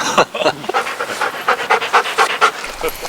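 A rescue dog pants rapidly and close up, quick rhythmic breaths in a steady series with brief pauses and no voices.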